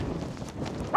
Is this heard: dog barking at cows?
yes